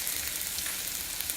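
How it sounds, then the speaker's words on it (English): Spices fry in hot oil for a brinjal pulav, giving a steady, even hiss and sizzle throughout with no voices. "It takes few seconds to fry it."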